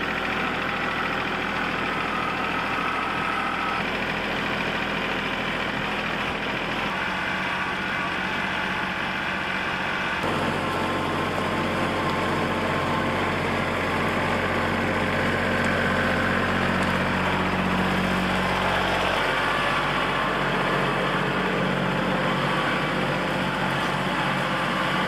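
A tractor engine runs steadily while the machine is driven along a tight, leaning wooded trail, a continuous mid-pitched drone with rumble and slight knocking. It shifts in tone partway through, with no talk over it.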